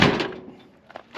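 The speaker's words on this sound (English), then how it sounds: "Square body doors." Door of a Chevrolet C10 square body truck with new seals swinging shut, a single close solid thunk that quickly fades, followed by faint small knocks.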